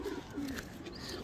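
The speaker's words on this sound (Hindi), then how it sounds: "कबूतर अच्छा है।" Pigeon cooing in a loose, low murmur, fairly close and moderately loud, with some background noise around it.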